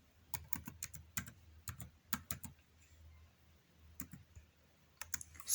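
Someone types a category name into an Excel source box on a computer keyboard, with short bursts of crisp, close keystrokes separated by quiet gaps.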